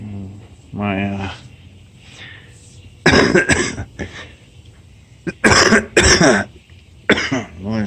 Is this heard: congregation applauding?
no